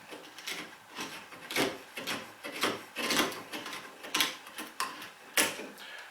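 Small controlled chisel strokes paring wood across the grain or at diagonals, a series of short close scraping rasps in an irregular rhythm, about eight or nine distinct cuts with brief pauses between.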